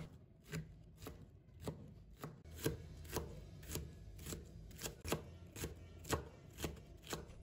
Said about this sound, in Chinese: 再改刀切成条， 然后切成小丁。